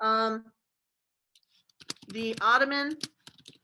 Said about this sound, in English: Okay, so I'm going to type that into this document.